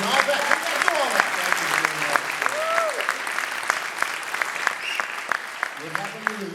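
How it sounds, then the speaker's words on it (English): Audience applause at a film screening Q&A for American Pachuco, steady clapping filling the room for several seconds with voices and speech audible over it. "give you a round of applause for doing all that"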